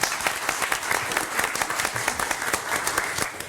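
Applause rises at a community redevelopment agency board meeting, a room of people clapping steadily and briskly for several seconds with no one talking over it.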